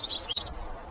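Brief high chirps from a small painted bunting, a couple of short bright calls heard alone in a quiet outdoor setting.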